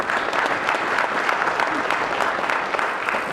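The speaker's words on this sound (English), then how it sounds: "Give them a round of applause," An audience at the SOK 2013 opening ceremonies applauds volunteers, with a full, continuous burst of many hands clapping and a faint crowd murmur underneath.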